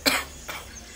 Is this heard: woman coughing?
yes